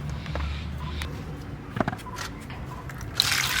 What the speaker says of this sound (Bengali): প্রথমে আমি আমটা ধুয়ে নেব।